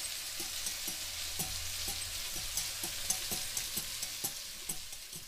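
A fork stirs a stock cube into liquid for spicy parsnip soup, giving light repeated clinks and scrapes against the container over a soft steady hiss, close and moderately quiet, with no voices.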